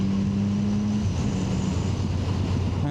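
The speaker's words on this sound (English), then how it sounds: "Let's accelerate here a bit" Triumph Sprint GT 1050 motorcycle accelerating, its engine note holding a steady drone that shifts in pitch partway through, loud and close, with wind rush and no talk.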